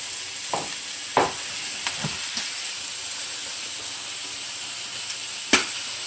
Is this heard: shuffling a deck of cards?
no